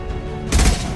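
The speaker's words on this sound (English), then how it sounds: "Watch out! Flashbangs!" A flashbang goes off in the sci-fi shooter Mass Effect 2, a sudden sharp burst halfway through that rises out of a low ambient drone and rings on briefly afterward.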